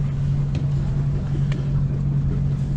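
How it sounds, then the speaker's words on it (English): A diesel boat engine runs steadily at idle, a low constant drone with a strong hum that stays level throughout, with light wind across the microphone on a cold outing toward the Statue of Liberty. "The engine's running."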